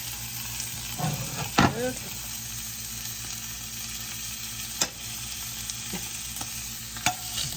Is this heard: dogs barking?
no